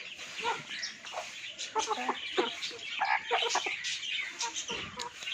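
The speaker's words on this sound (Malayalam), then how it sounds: "അടുത്ത നമ്മൾ അതിഥികൾ കോഴികളാണ്." Farm chickens cluck and chatter nearby in a bird-rearing yard, a busy run of overlapping clucks and short calls with no speech over them.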